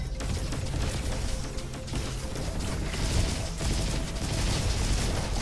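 Rapid gunfire and explosions in the roguelite shooter video game Roboquest, a dense, continuous barrage of shots and impacts with no pauses, loud throughout.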